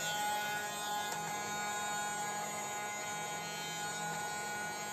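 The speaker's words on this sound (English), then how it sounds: "Turn off the vacuum cleaner." A new vacuum cleaner runs on a carpet indoors, a steady loud motor whine and hum droning on without break, close to the listener.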